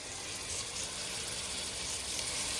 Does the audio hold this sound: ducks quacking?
no